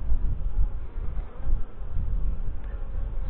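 Honey bees swarm and buzz in a steady close drone while a beekeeper opens a hive to find new comb and young bees, with no talk.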